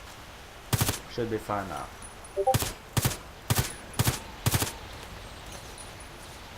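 Gunshots ring out in the shooter game Contract Wars during shooting practice: a few loud, evenly spaced single shots and short bursts over faint background hiss, with someone speaking briefly between them.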